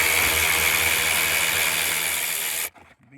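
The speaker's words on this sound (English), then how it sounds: "I'm going to go ahead and electric ratchet this one out here" An electric ratchet runs loud and close for about two and a half seconds, backing out the last bolt of a Mercedes W211 E320 Bluetec blower motor, then stops abruptly and leaves brief faint clatter.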